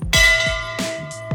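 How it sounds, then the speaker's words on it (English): Metal wish bells at a mountain temple ring out in a few bright, overlapping strikes, each leaving a long shimmering decay, close and clear with no talking. "seeing hundreds of bells swaying in the mountain breeze was beautiful"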